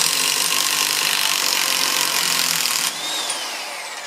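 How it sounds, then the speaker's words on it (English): An electric impact wrench spins off the center axle nut on a Scirocco 16V, a loud close whirring buzz that cuts off near the end and leaves a fainter whine. "let's get the center nut off. Just use an electric impact on this one"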